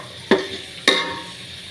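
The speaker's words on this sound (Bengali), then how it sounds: "শুটকি দি ফেলাই শুটকি কিন্তু দেওয়ার পরে হালকা হালকা করে লাড়াচাড়া করি" Dried fish (shutki) stirred in a hot frying pan, two sharp scraping strokes of a spoon against the pan over a steady low sizzle, close and alone.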